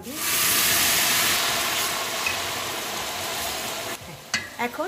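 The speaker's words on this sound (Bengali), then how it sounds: "পেঁয়াজটা ভাজা হয়ে গেছে" Onions fry in a pan for a mutton and potato curry, a steady loud sizzle that goes on throughout, with a few clinks and stirring sounds near the end.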